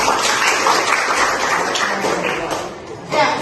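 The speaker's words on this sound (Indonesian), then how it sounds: "kita berikan tepuk tangan dulu" A classroom audience claps for a group that has just finished presenting, a dense burst of hand-clapping lasting about three seconds that fades briefly near the end before picking up again.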